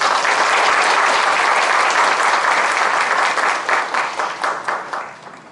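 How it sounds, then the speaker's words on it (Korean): A church congregation applauds in celebration during a Sunday worship service, a loud, dense wash of many hands clapping together that holds steady and then thins and fades out toward the end. "우리 축하의 박수를 한번 드리겠습니다"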